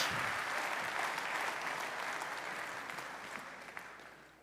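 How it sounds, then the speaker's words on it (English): A conference audience at a robotics company event applauds in a dense, steady wash of clapping that slowly fades toward the end, with no speech over it. "Big round of applause, please."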